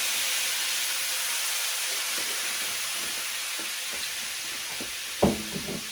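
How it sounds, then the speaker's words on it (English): White wine hits a hot pan to deglaze it, making a loud, steady steaming hiss throughout, with a sharp knock of a utensil near the end. "It's going to add flavor, and also it's going to deglaze the pan"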